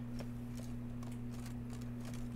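A horse walks in The Witcher 3, its hooves clip-clopping in a steady, even rhythm over a constant low electrical hum.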